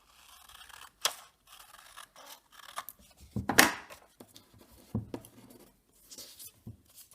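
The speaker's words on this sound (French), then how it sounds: "Découpe-le à nouveau en forme géométrique." Scissors snipping paper into a geometric shape, scattered close crisp cuts and rustles with quiet gaps between them.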